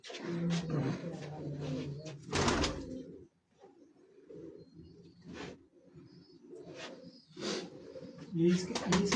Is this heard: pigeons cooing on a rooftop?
yes